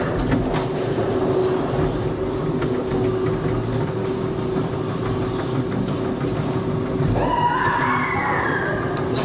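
Ghost train dark ride at the Energylandia amusement park, a steady rumbling rolling car with clattering and a rising electronic effect tone near the end, people talking over it.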